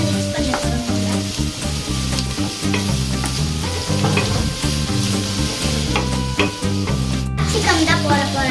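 Carrots and mixed vegetables are stirred in a hot frying pan for restaurant-style noodles, giving a steady scraping sizzle that runs throughout under continuous background music, with no talking.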